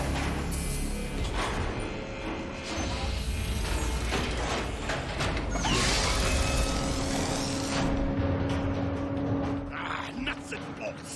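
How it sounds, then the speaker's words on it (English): A heavy lever is pulled in a Transformers Cybertron video game, giving loud, sustained mechanical grinding and ratcheting with gear clanks, layered with game effects and voices throughout. "This lever is heavy! Can they just make it a button?"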